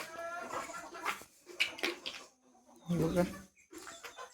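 Desi hens cluck and chatter in a Ratnagiri village poultry shed where brooding hens sit among newly hatched chicks, with clucks rising in bursts between stretches of nearby talking.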